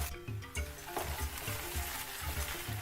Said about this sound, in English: This has been frying for about 3 minutes now